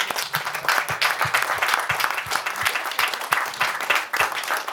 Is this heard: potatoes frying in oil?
no